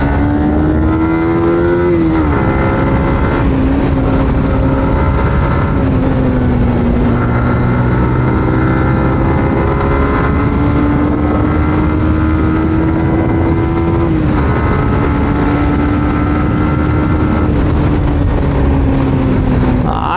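A Yamaha R15 motorcycle engine drones steadily at close range during a ride, holding a continuous tone that climbs and drops with brief shifts around gear changes, with wind noise underneath.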